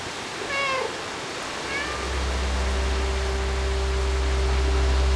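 Cat meows in the Stray video game: two short, high meows early on over a steady hiss, followed by a swelling low drone and rushing ambient noise, with no speech.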